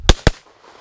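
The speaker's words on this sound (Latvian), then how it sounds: "Dubultā šāviens, bija viens uzšāva un otrs." Two sharp gunshots fired in quick succession at flying targets, loud and close, the second following the first by a fraction of a second before a quiet fade.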